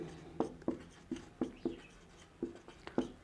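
Handwriting while solving a class 10 math problem, heard as a series of close, soft pen taps and short scratches on paper in an uneven rhythm, with no talk over them.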